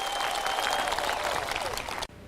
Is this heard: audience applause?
yes